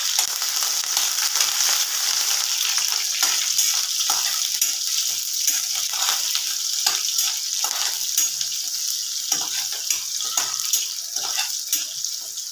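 Cumin seeds and green chilies fry in a pan for a spicy Marathi-style kurdai vegetable dish, a steady loud crackling sizzle with small pops and stirring scrapes throughout, no voices.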